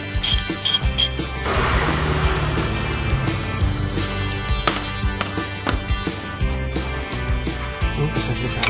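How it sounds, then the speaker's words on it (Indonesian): A ratchet wrench loosens the upper and lower bolts on a brake caliper, with rapid bursts of clicking pawl ratcheting alternating with metallic clanks and short pauses, close and fairly loud. "Kita pakai racet ya, biar mudah. Kita lepas baut atas dan bawah."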